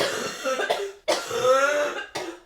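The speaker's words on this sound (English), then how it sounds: "I don't want to say it's a really bad cough" Three harsh, raspy coughs from someone ill with COVID, in close succession, loud and near, each a rough burst followed by a short pause before the next.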